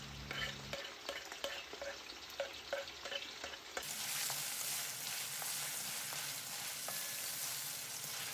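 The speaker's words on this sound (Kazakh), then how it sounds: "өкпесін салып қуырамыз" Lamb heart and lung fry in a cauldron: a loud, steady sizzle with a scrape of stirring at the start, then a dense, continuous crackle close up, with no talking.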